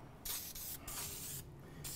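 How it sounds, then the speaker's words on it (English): A spray gun lays down DEFT lacquer sanding sealer over dyed maple in short hissing bursts with brief pauses between passes, close and fairly soft. "Spray it just like we did before, go around the perimeter"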